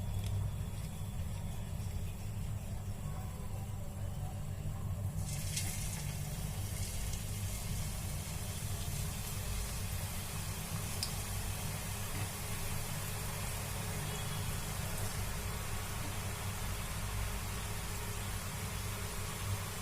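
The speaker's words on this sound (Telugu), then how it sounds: "మీడియం ఫ్లేమ్లో పెట్టుకొని వేయించుకుందామండి" Beetroot chakralu snacks frying in hot oil over a medium flame, a steady continuous sizzle with low bubbling underneath, constant and fairly close throughout.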